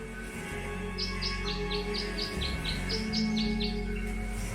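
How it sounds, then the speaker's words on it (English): Birds at a bird bath in the video game Tangle Tower chirp a bright tune of about a dozen evenly spaced short tweets over a steady ambient music and nature background. "The birds seem to like it. They're even singing a little tune."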